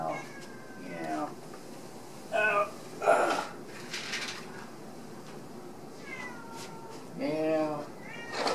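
A house cat meows repeatedly indoors near an open door, several short separate calls spread across the stretch, with quiet gaps between them and some close, soft sounds in the room.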